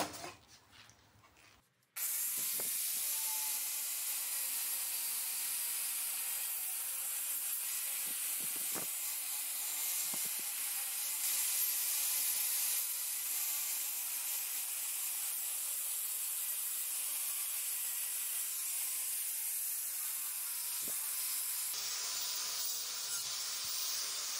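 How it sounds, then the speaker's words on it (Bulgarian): An angle grinder with a flap disc whines steadily for over twenty seconds, sanding a metal mower blade, rasping against it, loud and close after a brief quiet start. "директно на шапата на флекса ще го мина"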